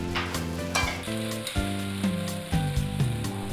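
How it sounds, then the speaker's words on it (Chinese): Grated coconut stir-fried with pandan leaves and palm sugar syrup in a wok over low heat sizzles steadily and loudly, with irregular scraping and clinking of a utensil against the pan, and no voices. "我们用小火把椰丝和香兰叶翻炒片刻，再加入椰糖浆，炒至香熟"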